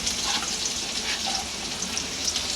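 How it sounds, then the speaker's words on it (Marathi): Onion dropped into hot oil fries with a steady, moderately loud sizzle and light crackling pops, continuous and close. "तेल गरम होईल आता कांदा टाकून घेऊया"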